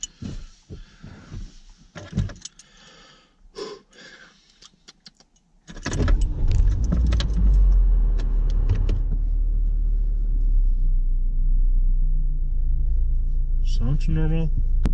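A car that had been stuck starts up and runs with a loud, steady low rumble that begins suddenly partway through and holds to the end, with talk and clicks heard before it.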